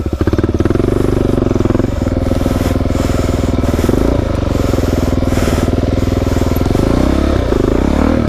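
A Suzuki DRZ dirt bike engine roars loud and close on a technical trail ride during enduro practice, a steady throbbing drone that surges and eases with the throttle and never lets up.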